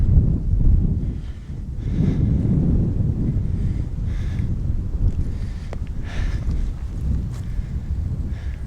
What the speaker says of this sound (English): Very windy up here on the ridge.